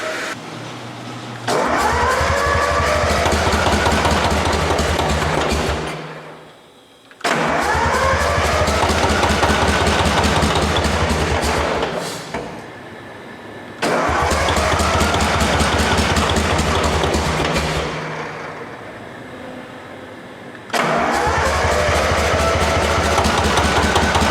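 A 1944 Cleveland two-stroke generator engine runs loud and close in four long stretches, dropping away between runs, with a steady buzzing, rattling exhaust note and no talk.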